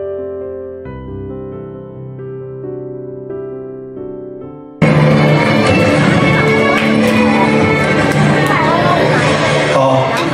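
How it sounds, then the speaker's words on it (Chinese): Wedding guests at a Chinese wedding celebration break into loud, sustained applause as the bride and groom's uncle is welcomed onto the stage. The applause bursts in abruptly over soft piano music and continues steadily. "我们以热烈的掌声，有请新郎新娘的阿伯上台坐镇良缘"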